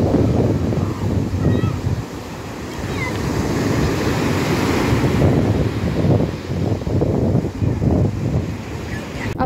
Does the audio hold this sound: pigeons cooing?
no